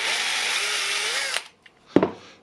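A power drill whines steadily at high speed drilling out security pins on a Bosch ProCore battery, then stops abruptly, followed by a couple of short clicks and a sharp knock.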